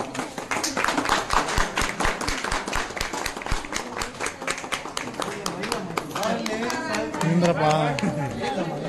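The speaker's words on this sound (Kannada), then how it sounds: "ಚಪ್ಪಾಳೆ." A group of people claps in a rapid, dense patter, with crowd chatter and voices mixed in, and talk rising as the clapping thins out near the end.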